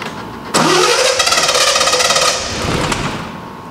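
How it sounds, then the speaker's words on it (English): A Triumph TR6 in neutral has its engine cranked over by the starter with the ignition trigger held down: a loud, steady mechanical whirring churn begins abruptly and runs for about three seconds before easing off, with no talk. "crank the engine with the trigger down."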